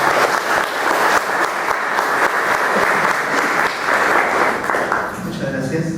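An audience at a university engineering faculty graduation event gives strong, continuous applause that fades near the end as a speaker starts talking.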